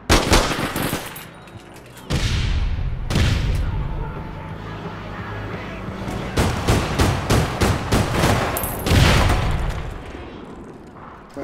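Rapid bursts of automatic gunfire from an online shooter game, APB Reloaded, come in clustered volleys with sharp repeated cracks and booming low end, loud and close, separated by brief pauses.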